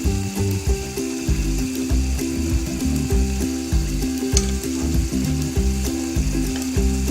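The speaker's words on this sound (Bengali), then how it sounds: "বন্ধুরা, দেখি মাংসটা কিরকম হয়েছে কষানো। নাড়াচাড়া দিয়ে দিব।" Beef vona curry being stirred in a cooking pot, a steady rhythmic scraping and clatter of the spoon against the metal with sizzling underneath, loud and close throughout, no talking.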